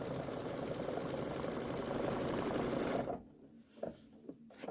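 A sewing machine runs steadily for about three seconds while quilting a Kimberbell Twilight Boolevard bench pillow top, then stops; a few faint clicks and handling sounds follow in the near silence.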